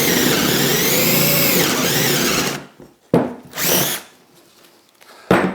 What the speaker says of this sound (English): I'm going to drill into this piece of wood